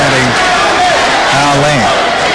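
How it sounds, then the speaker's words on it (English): A boxing crowd at the Molson Center in Montreal chants in loud, rising-and-falling waves, with two clear sung phrases cutting through the steady roar of the arena. "Crowd starts up here at the Molson Center chanting"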